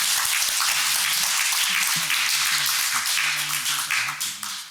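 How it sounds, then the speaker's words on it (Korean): An audience at a Korean-Japanese seminar on respect for life and suicide prevention breaks into full, crowded applause that holds steady, with faint voices and a low murmur beneath, before tapering off at the end. "함께 박수로 시작하겠습니다"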